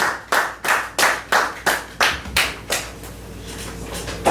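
A church congregation claps in praise during worship, about nine sharp, evenly spaced claps that are loud and close, then fade into softer scattered clapping near the end, with no speech.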